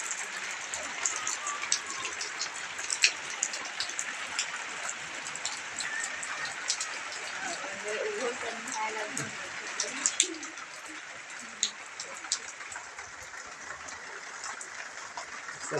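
Steady rain falls outdoors through the whole stretch as a dense, even hiss with scattered louder drops, and faint background sounds sit beneath it.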